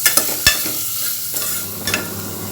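Sliced onions sizzle in oil as they are sautéed and stirred in a pan for a chickpea biryani. Continuous frying hiss with a few sharp utensil scrapes and clinks close by, no speech.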